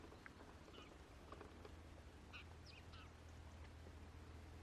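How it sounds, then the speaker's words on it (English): Faint, scattered duck quacks come from far off over a low, steady background rumble, near the sea by a cave on the Isle of Arran. "I can hear some ducks in the distance"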